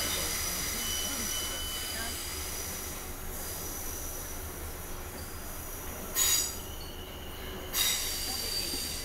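A train on the Guildford to London Waterloo line rumbles steadily, then its wheels let out two sharp, high-pitched squeals close together near the end.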